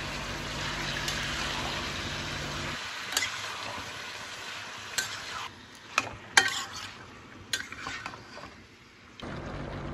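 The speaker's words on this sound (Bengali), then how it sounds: "এবার পেঁয়াজের সাথে চিকেনটাকে ভালো করে কিছুক্ষণ ফ্রাই করে নিচ্ছি।" Marinated chicken frying with onions in a pan; a steady sizzle gives way partway through to quieter cooking punctuated by sharp scraping and clanking spatula strokes, with no speech.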